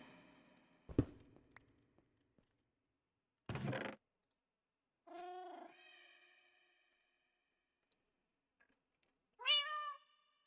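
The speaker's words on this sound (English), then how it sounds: "I hear you, cat." A house cat meows twice, with rising and falling cries that are close and clear, between a couple of sharp knocks and quiet pauses, and no talking.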